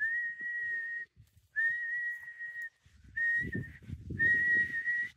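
Four sustained whistled notes from a person outdoors in Miyazaki, Japan, each about a second long with short pauses between, near and clear, with soft rustling noise beneath the later ones.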